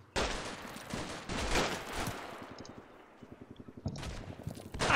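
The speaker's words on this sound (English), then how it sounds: "There is some shooting, isn't there?" Gunfire in the video game Combat Mission Shock Force 2 crackles in repeated fusillades, then fades to a quieter rapid rattle before louder bursts return, all fairly faint and distant.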